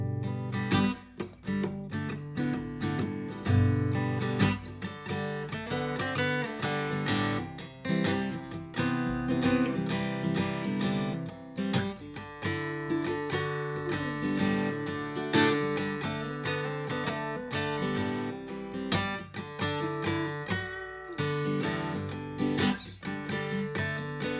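Acoustic guitar strumming open chords mixed with single-string scale runs, a steady, full-bodied rhythmic pattern with plucked melodic notes woven in, played alone and fairly close for about twenty-four seconds.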